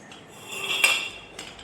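A large, heavy griddle (tawa) of about 3–4 kg is handled, giving a quiet metallic scrape and a single clink near the middle of a short, otherwise hushed stretch with no talking.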